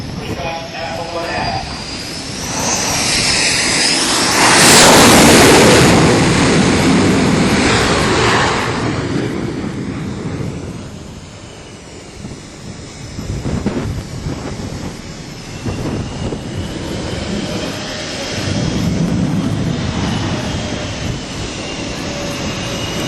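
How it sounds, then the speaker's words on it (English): A fighter jet descends to land on the aircraft carrier USS John C. Stennis with afterburner lit, a broad roaring rush that swells around the middle, heard from a distance amid deck wind and general ambient noise. "There's a jet off in the distance. They kick the afterburner in right before they land"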